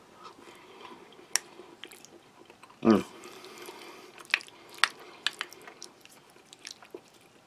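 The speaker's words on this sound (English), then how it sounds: "You do need to chew it properly like a piece of beef." Close, quiet chewing of beef from a French army ration Mexican salad, with soft squishy bites and a louder crunch, then small wet clicks in a hushed room.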